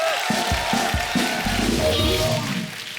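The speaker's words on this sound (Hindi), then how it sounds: "एक बार जोरदार तालियां हो जाएं" A studio audience on a Hindi comedy talk show gives a dense burst of applause and cheering, loud and steady for the whole stretch, with a few heavy drum beats early on.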